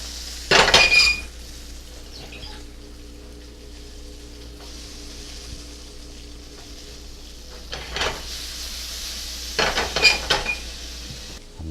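Shrimp with tomatoes and snow peas frying in a pan: a soft, constant sizzle runs throughout, broken by a few bursts of utensil clatter and scraping at the start and again near the end, with no talk.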